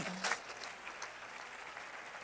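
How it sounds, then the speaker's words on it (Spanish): Brief applause from a church congregation, fairly faint and short, with a burst of clapping early on over a low hum. "Dele fuerte el aplauso al Señor."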